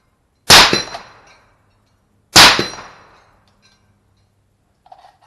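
Two sharp suppressed shots from a 7.62x39 AR rifle, each followed by a ringing clang from a steel target as it decays, about two seconds apart, then quiet.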